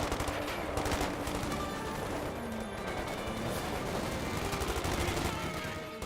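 Rapid gunfire from the real-time strategy game Company of Heroes 2, with machine guns and rifles crackling in dense, overlapping bursts that run loud and continuous throughout, with no voices.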